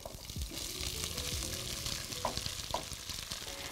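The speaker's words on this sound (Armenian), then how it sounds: "Էլի ընթացիկ խառնելով այն ավելացնենք մեր կաթսայի մեջ։" Potatoes in a pot being stirred as sauce and melted butter are mixed in, giving a steady close sizzle with soft scraping and a couple of brief clinks, no talk.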